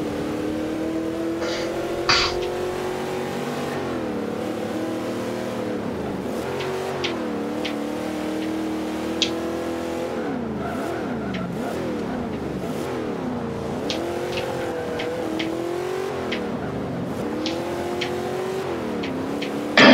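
The Judge, a vintage American muscle car in Forza Motorsport 5, revs continuously, its engine note climbing and dropping through repeated gear changes, loud and steady throughout, with no talking.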